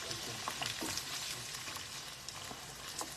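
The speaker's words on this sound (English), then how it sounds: "And we're going to saute that down" Corn sautéing in a mix of olive oil and butter, a dense continuous sizzle with faint stirring clicks, steady and close, no voices.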